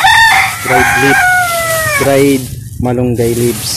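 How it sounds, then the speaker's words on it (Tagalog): A rooster crows loudly and close by in a backyard tomato garden on a late afternoon, giving two long drawn-out calls while someone speaks over them. "pasensya na po sa manok"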